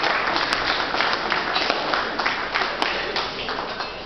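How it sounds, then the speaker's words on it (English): Audience applause at the launch of a technology shop in Zimbabwe, steady clapping from a crowd sustained throughout with a few sharper claps standing out, fairly loud and filling the room. "Can you just give it an applause to the team of OK for the job of well done?"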